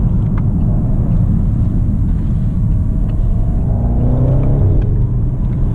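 A 2018 BMW 750i xDrive pulls hard on the road, its engine droning low and steady inside the cabin as the pitch rises. A few faint, sharp exhaust cracks come through under the rumble, with no talking.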